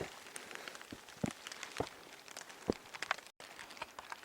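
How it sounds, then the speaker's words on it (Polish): Light rain patters on a high mountain trail among dwarf pine in a storm, scattered drops tapping close by at irregular intervals over a soft steady hiss, with no voices. "Delikatny deszczyk tak popaduje, zwilża nam ciała, ale przestaje padać."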